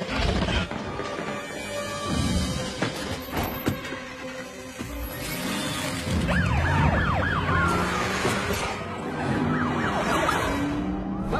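A police car siren wails in a film scene, its rising and falling tone cutting through busy action noise and rumble, with brief voices mixed in.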